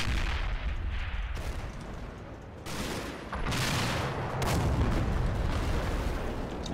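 Distant mortar rounds in a battlefield video game, a series of muffled booms and rumbling blasts rolling under steady background noise with no talk.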